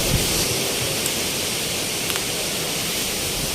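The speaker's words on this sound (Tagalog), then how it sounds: "Lakas pa ulit ang hangin." Powerful typhoon wind roars continuously as a dense, broadband rush, loud and unbroken, with occasional faint knocks underneath, in the Philippines.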